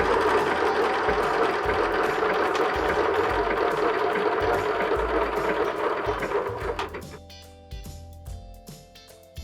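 A sewing machine stitches a holiday cushion cover, its steady fast whirring run of stitches continuing loud and close for several seconds before stopping, leaving a few faint mechanical clicks and handling sounds.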